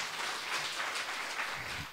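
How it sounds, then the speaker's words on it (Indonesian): A church congregation at a New Year's service applauds in a steady, dense wash of clapping that holds for the full two seconds, even and moderately loud, with no voices over it. "Tepuk tangan buat Tuhan."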